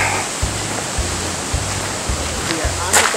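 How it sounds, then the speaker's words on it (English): Plum Creek water rushes steadily as a broad, constant wash of flowing sound heard outdoors, with faint low rumbles and a few brief clicks near the end. "We are on the banks of Plum Creek."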